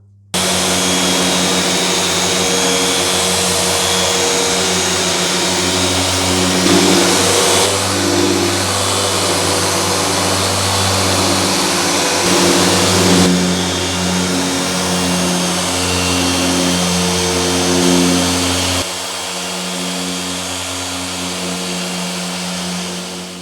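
A polishing machine works Meguiar's Ultimate Compound into car paint with a loud, steady whirring drone and a constant motor hum that shifts slightly in pitch between passes, then drops in level near the end.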